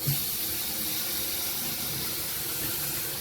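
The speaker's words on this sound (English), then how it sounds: "First thing I do is I turn on some warm water." Warm water runs from a sink tap in a steady, even rush of hiss, close and continuous with no voices.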